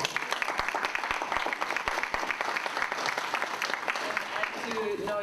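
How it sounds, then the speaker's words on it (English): Audience applause at a Hawaii Future Caucus panel with Rep. Gabbard, a steady moderate wash of clapping with a few sharper individual claps standing out, somewhat distant. "I think that deserves a big round of applause."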